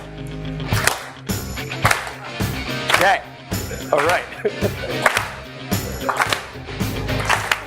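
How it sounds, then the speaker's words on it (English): An audience claps along to the beat of loud, pumping music, sharp hand claps landing rhythmically over the track, with a few brief spoken words. "We gotta find the beat and then we gotta clap to the beat."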